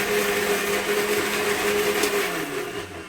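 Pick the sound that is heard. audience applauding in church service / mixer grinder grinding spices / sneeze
mixer grinder grinding spices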